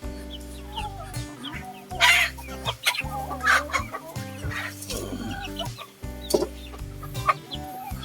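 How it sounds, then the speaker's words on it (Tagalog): Several free-range chickens cluck and squawk close by, overlapping in short bursts with a few sharper calls, no talking. "mga kapakners nitong mga alagang manok namin"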